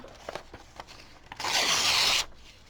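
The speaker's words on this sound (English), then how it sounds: "let's just tear some pieces out of here" Paper being torn by hand into pieces for a craft project, a few soft rips and rustles followed by one long, loud, close tear lasting nearly a second.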